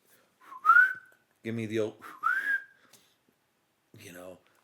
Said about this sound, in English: My whistle sucks.